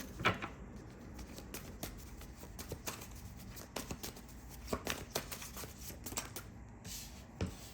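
Tarot cards are shuffled close by, making faint, irregular taps and soft riffling clicks that continue throughout in a quiet room.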